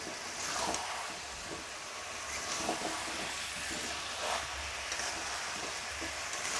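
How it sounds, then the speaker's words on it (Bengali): Small new potatoes stirred in a kadai, a continuous scraping and light sizzling with soft rhythmic rattles of the spoon against the metal, close and steady with no talking. "ওটা আমি পুরো কড়ার মধ্যে দিয়ে দিলাম। দেওয়ার পরে এবার নাড়তে হবে ভালো করে এটা।"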